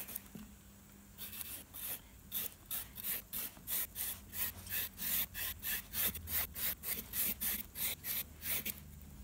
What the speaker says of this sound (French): Je la découpe en lamelles.